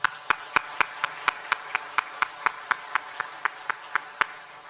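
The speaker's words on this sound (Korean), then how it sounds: "영광의 박수를 드리겠습니다" A church congregation claps together in a steady, even rhythm, about eighteen sharp, evenly spaced claps filling the room during a Sunday morning service.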